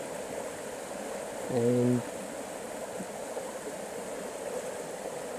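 Flowing water of Jacksons Creek in Organ Pipes National Park, a steady broadband rush heard nearby, briefly interrupted by a short spoken word.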